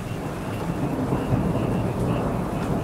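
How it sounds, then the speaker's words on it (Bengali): Steady heavy rain pours down with a low rumble of thunder underneath, a dense continuous wash of noise with no voices. "বৃষ্টির তেজ আর ঝড়ের প্রকোপ যেন বেড়েই চলেছে"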